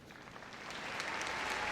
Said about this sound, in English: They're all getting good applause